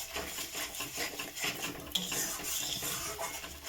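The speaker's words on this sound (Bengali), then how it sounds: "এই শিমটা দিয়ে অনবরত কিন্তু নেড়ে যেতে হবে।" Flat beans are stirred in a frying pan, faint repeated metallic scrapes and clinks of a spatula against the pan with a soft low sizzle underneath.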